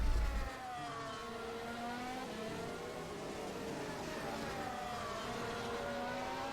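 A race car in a Formula-style sim racing game at the Brazil circuit rolls down the pit lane, its engine a steady mid-pitched drone with gliding whine harmonics after a short louder burst at the start, with no talk over it.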